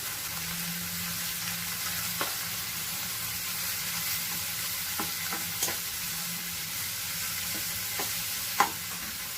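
Paste of ginger, garlic, green chili and coriander frying over high heat in a pan, a steady gentle sizzle with occasional sharp clicks and scrapes of stirring, close and without speech.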